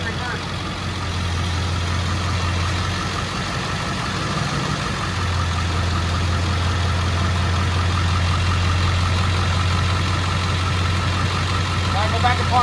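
A Ford F250 Super Duty truck engine idles steadily up close after a transmission refill, with a low, even drone that dips briefly partway through as the truck is put into reverse. Voices are faintly present.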